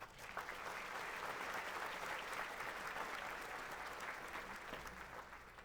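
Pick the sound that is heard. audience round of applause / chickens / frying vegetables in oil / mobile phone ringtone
audience round of applause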